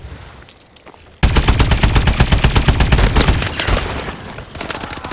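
The AE4 Widowmaker fires in a video game after a quiet second, a loud rapid burst of closely spaced shots that continues steadily to the end.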